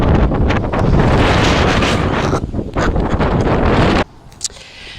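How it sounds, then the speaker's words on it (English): Strong wind outside a small pilgrim chapel in North Berwick, East Lothian, buffets the microphone in loud, continuous roaring gusts, then drops abruptly to a faint breeze near the end. "If you step out, you'll feel the wind."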